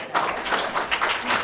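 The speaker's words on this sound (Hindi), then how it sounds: "एक बार जोरदार तालियां बजाइए।" An audience at a quiz event clapping loudly, a dense, steady patter of many hands that carries on without a break, close and fairly loud.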